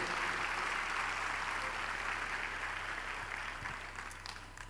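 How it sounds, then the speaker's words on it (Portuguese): A church congregation applauds in steady, dense clapping that holds evenly throughout and eases slightly at the end, with no talking over it. "aplauda o Senhor Jesus, aplauda o Senhor Jesus, glória a Deus"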